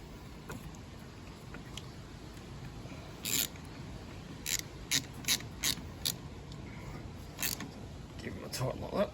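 Ratchet clicking in short bursts while tightening a VW car battery terminal, crisp and close over a low background rumble, with a few separated clicks.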